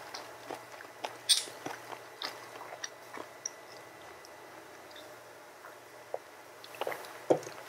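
Someone bites and chews a large mouthful of octopus with udon noodles in seasoning, giving faint, close, wet squishes and small crunchy clicks scattered irregularly over quiet background.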